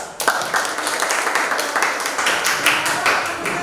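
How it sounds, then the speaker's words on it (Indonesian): A classroom group claps during a lesson on tantra, yantra and mantra, a steady patter of many hands close by, moderately loud, with a few faint voices underneath. "Oke, tepuk tangan"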